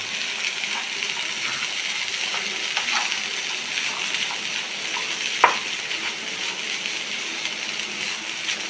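Cooked beans and chopped nendran banana peel thoran are stirred in a hot pan, giving a steady soft sizzle and scraping, with one sharp clink of the spoon against the pan partway through.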